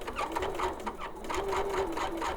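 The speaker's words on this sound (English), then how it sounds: "let's give the sewing machine a chance to stitch" A sewing machine stitches through two layers of fabric and two layers of 640 stabilizer in a rapid, steady mechanical chatter, loud and close, running continuously with a slightly labored rhythmic hum.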